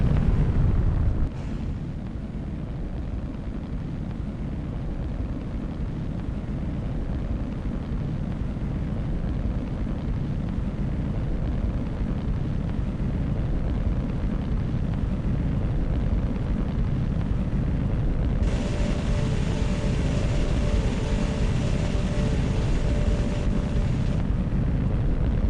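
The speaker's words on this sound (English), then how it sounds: "We've lit up 11 of those engines for the landing burn." A rocket booster fires eleven engines for its landing burn, giving a sustained heavy roar with wind buffeting, and the tone shifts partway through the burn.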